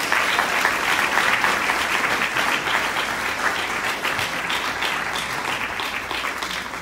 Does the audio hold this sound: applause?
yes